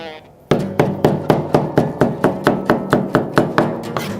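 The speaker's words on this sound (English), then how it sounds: "Use our cleaver, go one direction for 1/4 inch, change directions" Cleaver chopping smoked brisket on a board, about fourteen sharp, evenly spaced thwacks in a quick steady rhythm, loud and close.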